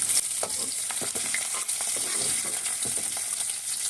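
Hilsa fish heads fry in hot oil, a steady loud sizzle and crackle filling the clip with scattered pops and occasional stirring scrapes, no voices.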